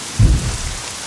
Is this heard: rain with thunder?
yes